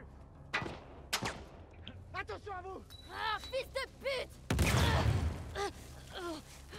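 Gunfire aimed at the player in The Last of Us Part II, scattered sharp shots ringing out amid other game sounds, ending in a heavier burst near the end, with someone talking between them.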